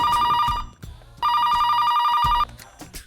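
An old-style telephone bell rings in two loud, steady bursts of about half a second and a second and a quarter, with a short quiet gap between them and faint background sounds after.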